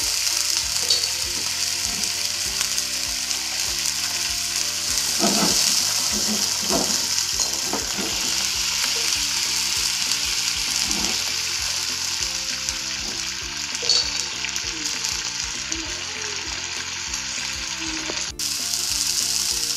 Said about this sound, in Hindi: ये इसी फ्लेम के अंदर कुक होगी सारी चीज़ थोड़ा थोड़ा आप इसमें ऑयल डालते जाएं